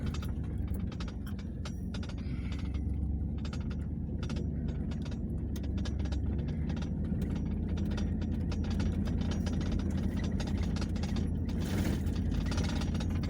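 Small FP202 aircraft engine held near full power while taxiing uphill on a grass airstrip runway, a steady loud low drone with faint mechanical rattles, continuous and close, no talking.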